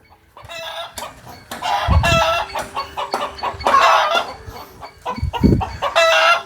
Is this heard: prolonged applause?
no